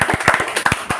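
A small group claps briskly for a second, the quick sharp hand claps landing in an uneven patter.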